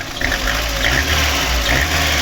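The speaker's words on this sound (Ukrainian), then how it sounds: "Так працює наш двигунчик." A VAZ 2115 with a 1.5 engine and roughly 270,000 to 300,000 km on it, which has had trouble starting, idles steadily up close, a constant low hum with no talk over it.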